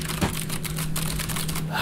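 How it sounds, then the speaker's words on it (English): Clacking keys on a computer keyboard in rapid, irregular taps over a steady background hum. "I thought the one time I was gonna get away with you not clacking on your keyboard"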